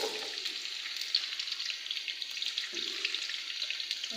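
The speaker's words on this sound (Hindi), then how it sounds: "मैं इसके अंदर प्याज डालने लगी हूँ।" Onions frying in hot oil in a kadai for korma, a steady soft sizzle running throughout, moderate and close, with no talking.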